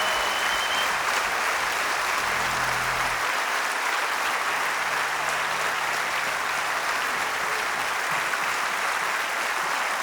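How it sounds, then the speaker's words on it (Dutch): Festival audience at an outdoor music weekend in Kanada giving children loud, sustained applause, a dense continuous roar of clapping lasting throughout, with a brief low hum early on. "geef die kinderen even een daverend applaus"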